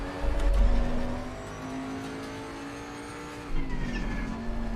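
Honda NSX race car in a sim racing game at Suzuka, its engine droning steadily with pitch shifts as it accelerates and changes gear, plus a brief low rumble and faint tire noise.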